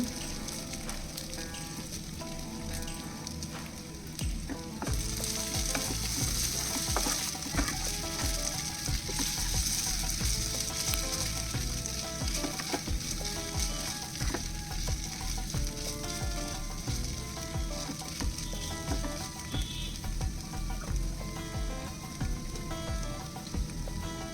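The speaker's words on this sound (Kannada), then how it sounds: "ಈಗ ತೊಳೆದು ನೆನೆಸಿದ ಅವಲಕ್ಕಿಯನ್ನು ಈಗ ಇದಕ್ಕೆ ಹಾಕಿ ಎಲ್ಲನೂ ಚೆನ್ನಾಗಿ ಮಿಕ್ಸ್ ಮಾಡ್ಕೋಬೇಕು" Soaked flattened rice (poha) being stirred through a hot frying pan for kanda poha: a steady, close sizzle with continuous scraping and stirring, loud and unbroken with no talking.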